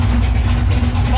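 A V8-swapped Camaro engine idling at 760 RPM, a loud, steady low rumble close by, with a voice speaking over it.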